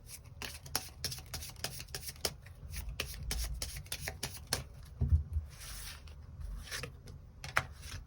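Tarot cards are shuffled by hand, giving a quiet, continuous run of rapid papery ticks and riffles with short pauses, close up and without any talk.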